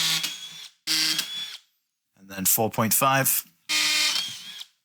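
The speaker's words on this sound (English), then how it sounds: "Okay, so that's the drilling done." A power drill boring holes into soft metal, in three short whirring bursts with pauses between, one of them partly under a man's speech.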